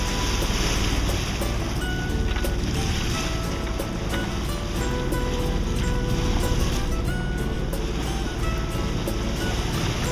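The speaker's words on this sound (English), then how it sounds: "Dropped the sails, got the motor on, turning into the marina." Sailboat under motor with sails dropped, turning into a marina in 10 to 12 knot winds; a steady broadband wash of engine, water and wind noise runs throughout at even loudness, with no talking.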